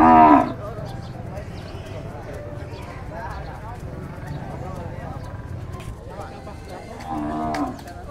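Cattle lowing at a stockyard crowded with livestock such as horses and carabao, with a loud moo at the start and another near the end over steady background noise and people talking.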